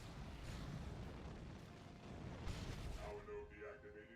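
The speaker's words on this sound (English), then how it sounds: "The first one is a Flamer, which you'll see in action here" A Flamer weapon fires in Dawn of War 2: Retribution against armored enemies, a roaring rush of flame bursts under battle noise, rising again midway, with faint tonal effects at the end.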